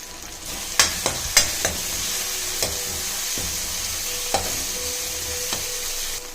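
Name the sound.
sautéing garlic, curry leaves and turmeric in a pan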